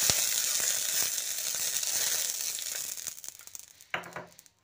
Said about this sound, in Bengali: আবারও আমি জল ও তেলের মিশ্রণটা কড়াইয়ের মধ্যে দিয়ে দিচ্ছি।